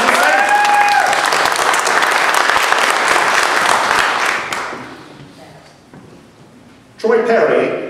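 Congregation at an AIDS day service applauds Leon, loud full-room clapping that holds for several seconds, then thins out and fades before a speaking voice returns.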